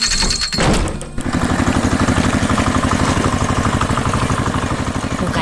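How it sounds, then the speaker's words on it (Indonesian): A red tractor engine in an animated village scene runs with a steady throbbing mechanical chug after a brief clunk, loud and close, pulsing evenly throughout. "Wah, lihat traktor merah itu datang."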